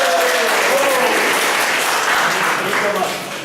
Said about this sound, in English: Ladies and gentlemen, please make some noise for team number two.